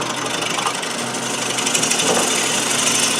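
A bowl gouge cuts into wood spinning on a lathe, making a loud, steady, close rushing grind with a dense rough texture that holds throughout.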